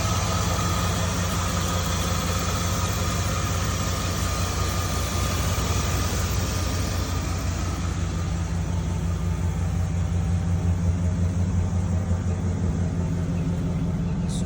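A 1999 Dodge Ram 1500 Sport engine runs at a steady idle, close by, with an even, continuous rumble and no talking over it.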